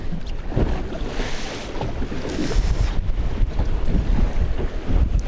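Gusty wind buffets the microphone on an open fishing boat at sea, a steady loud roar with bursts of rumble and waves washing around the hull, no voices.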